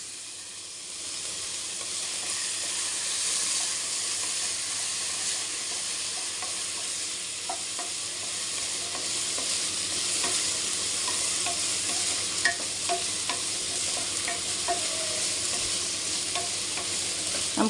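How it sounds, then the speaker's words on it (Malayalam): Tomato sautés in a hot pan with a continuous sizzling hiss, while occasional soft scrapes and clicks of stirring break through the steady frying. "ഒന്നിട്ടിട്ടുള്ള ഒരു ടൊമാറ്റോ എടുത്തിട്ട് വെച്ചിരുന്നു. അത് ഞാൻ അതിലിട്ടിട്ടൊന്ന് വഴറ്റാൻ പോവുകയാണ്."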